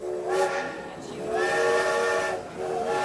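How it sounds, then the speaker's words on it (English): A train's steam whistle sounds in loud sustained blasts, three long tonal hoots with short breaks between them, used as a sound effect. "we're going to be hopping back on the movie train"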